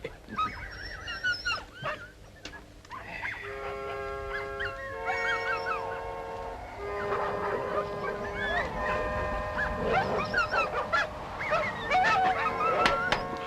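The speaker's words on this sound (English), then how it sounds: "Dogs are noisy tonight." Several dogs barking and howling at night in a remote northern setting, a busy chorus of overlapping yelps and howls rising and falling throughout, moderately loud, with faint low voices underneath.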